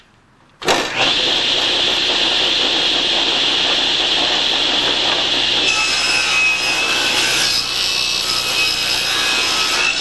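A power saw, likely a table saw, cuts wood for a casement window: it starts abruptly and runs as one loud, continuous, steady whine for about nine seconds, with no speech.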